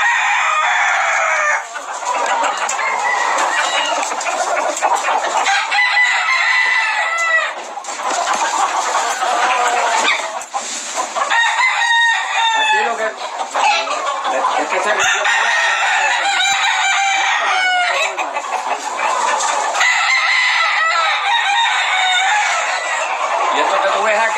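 Roughly forty-five roosters kept together crow and cluck continuously, with long overlapping calls rising and falling near and far; a voice talks briefly underneath at times.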